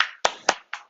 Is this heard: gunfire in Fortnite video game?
no